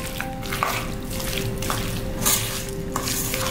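Boondi is mixed with ghee and cardamom powder, giving soft repeated scraping and stirring strokes against a vessel, quiet and close, with a low steady hum underneath.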